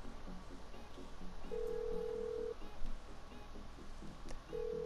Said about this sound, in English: pull up your phone, go to contacts, get a Simeon.